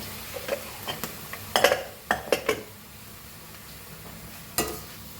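Spoon stirring cauliflower bhaji frying in a pan gives scattered scrapes and clinks against the metal over a faint low sizzle, several clustered knocks then a pause and one last scrape, close and fairly quiet.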